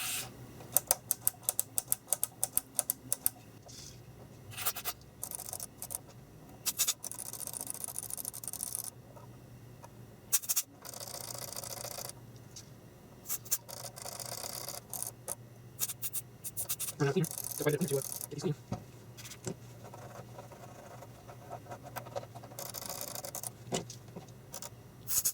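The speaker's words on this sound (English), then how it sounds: "let's just clean these buttons and the jacks first really quick" Buttons and jacks on a Peavey Studio Pro 112 amplifier are cleaned and clicked, giving crisp, close, irregular clicks and scratchy rubbing with brief sprays, all fairly quiet over a steady background hum.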